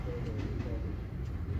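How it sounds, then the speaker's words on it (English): A train passes at a distance, a faint steady low rumble with light rattling, heard under a quiet workshop. "Might have just heard the train go past as well."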